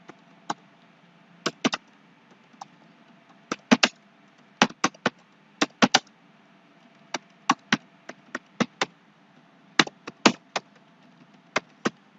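Someone types on a computer keyboard at a command prompt, producing crisp, close key clicks in short irregular bursts and single taps over a low, steady background hum.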